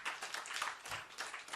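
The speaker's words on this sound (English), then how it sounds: "A big round of applause, ladies and gentlemen." An audience applauds at a book launch for a biography at The Bengal Club in Kolkata, a dense spread of claps heard faint and distant.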